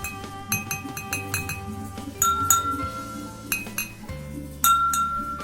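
Thin drinking glass struck gently by hand in a home sound demonstration, giving a series of bright, ringing clinks at an uneven rhythm, each with a sustained high tone that lingers before the next tap, close and clear with no talking.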